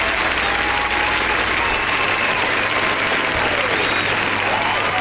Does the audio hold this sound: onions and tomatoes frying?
no